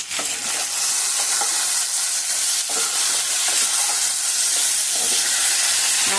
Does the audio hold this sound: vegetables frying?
yes